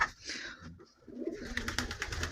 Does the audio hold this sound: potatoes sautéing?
no